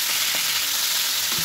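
Pangas fish frying in hot oil in a pan, a loud dense sizzle crackling steadily close by, with a couple of soft stirring or shifting touches and no talking.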